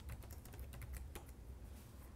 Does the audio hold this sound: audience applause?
no